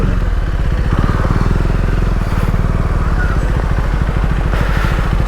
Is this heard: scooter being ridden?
yes